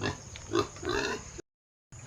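Pig grunting on a farm, a few close, rough low grunts in quick succession, then a brief silence and a short resumption.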